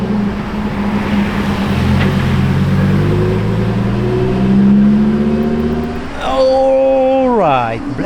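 A Lamborghini Huracan Evo travels along a road, its engine droning and building in a long rising pull, then fading as it goes by, with someone talking over the last part.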